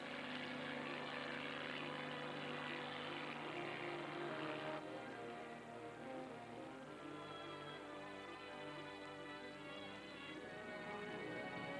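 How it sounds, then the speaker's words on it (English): Propeller-driven drone aircraft and helicopters fly toward a nuclear test cloud at an island test site, a steady, continuous engine drone with layered tones that holds loud throughout, with no voices. "Against the morning sky, drones start into the radioactive cloud to gather air samples."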